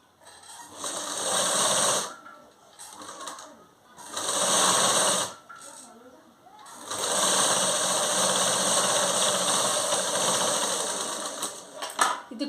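An electric sewing machine stitching a blouse runs in three bursts, two short and one long, with a steady whirring hum between pauses where someone speaks.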